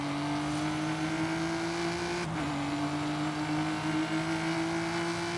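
An Aston Martin engine drones steadily in the Forza Horizon video game, giving a constant, close mechanical hum with a slight dip and recovery in pitch midway.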